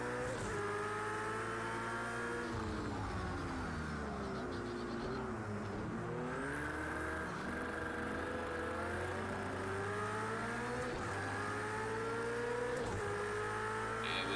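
Racing cars, including an Audi, lap a track in a racing video game, a loud continuous engine whine rising and falling through gear changes and revs, with no voices.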